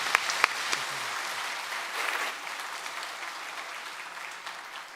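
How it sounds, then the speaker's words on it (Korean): A church congregation claps together during a Sunday worship service in steady, sustained applause that fills the room, with a few sharper claps standing out early before it gradually eases. "박수하겠습니다."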